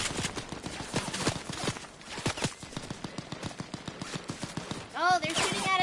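Gunfire rattles during a Fortnite match in rapid repeated bursts of shots, with players talking over the shooting.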